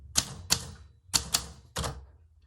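Typewriter keys striking paper, five sharp mechanical clacks in an uneven rhythm, close and crisp against quiet surroundings.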